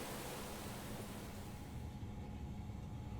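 Cave ambience in a Chrono Sword-inspired game: a low, dark rumbling wash of noise, steady and enveloping, fading slightly in its upper hiss toward the end, with no voices.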